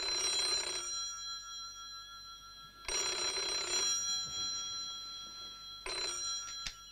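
An old telephone bell rings in three bursts, each bright metallic ring lasting about a second with quiet gaps between, close and clear with no voices.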